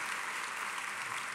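A church congregation applauds the King of Glory, dense steady clapping that fills the room and carries on without a break.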